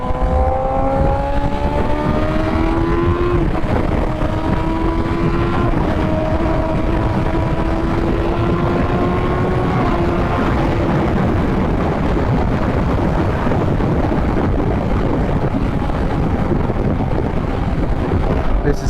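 Steady roaring wind rush while riding a 2020 BMW S1000RR liter sport bike, loud and constant, with the engine's rising harmonic whine audible underneath in the opening seconds before the wind buffeting dominates.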